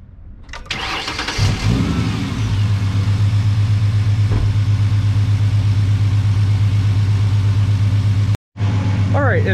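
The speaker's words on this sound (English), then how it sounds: "let's go ahead and turn the car on" A 2008 Ford Mustang 4.0 V6 cranks and fires up, then settles into a loud, steady idle with a deep droning hum, interrupted by a brief cut near the end before the idle continues.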